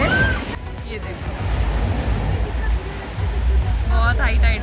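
Sea waves at high tide wash onto a beach in Krabi, Thailand, a steady loud surf roar with wind buffeting the microphone and brief speech over it.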